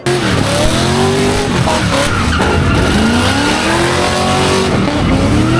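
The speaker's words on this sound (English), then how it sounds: "Burnouts, launch controls, everything to make as much noise and smoke as possible" Car burnout at the Simola Hillclimb, a loud, close engine roaring at high revs while the tires squeal in long rising and falling whines, continuous with no break.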